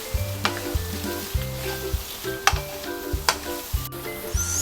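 Carrots and other vegetables stir-fried in a pan, with a steady sizzle broken by repeated scraping and stirring strokes and occasional sharp clinks of a utensil, close and alone with no talk.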